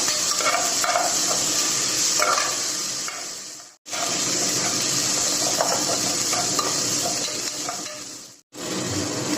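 Coriander leaves being stirred into a cooking mixture in a pan, giving steady scraping stir sounds over a continuous sizzle, with two brief gaps; no talking.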